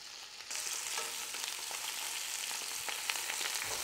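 Shrimp frying in a pan, a bright, dense sizzle that swells sharply after a brief quieter start and then holds loud and close with scattered crackles and pops, no voices.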